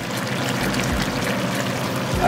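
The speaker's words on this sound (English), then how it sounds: "I'm also going to put some boiling water that I have in the kettle." Boiling water from a kettle pours into a pot of geera stew pork, a steady close-up splashing and trickling stream that runs continuously and loudly throughout.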